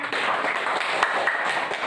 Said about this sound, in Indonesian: Tepuk tangan untuk Ramdan.